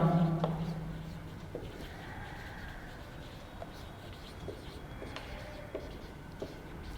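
A trigonometry formula being written on a board, a continuous close scratching of the writing implement with a few faint taps, under a steady background and a brief tonal sound at the start.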